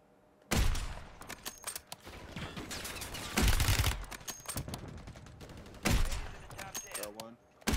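Bursts of automatic gunfire in the Warzone video game, several loud rapid volleys separated by quieter stretches, with players talking over and between the shots.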